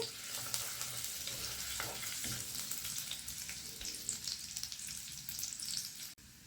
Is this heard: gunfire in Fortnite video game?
no